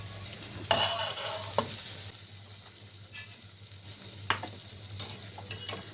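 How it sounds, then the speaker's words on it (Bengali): Bengali bori begun rasha, eggplant and lentil dumplings in a pan as the water cooks off, being stirred with a few distinct utensil scrapes over a faint low simmer and background hum. "জলটা সব শুকিয়ে গেছে, নাড়াচাড়া করে নিচ্ছি।"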